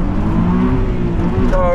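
A drift car's engine revs steadily in the rain, with harmonic engine tones rising toward the end as it shifts gear and accelerates; loud, close, continuous.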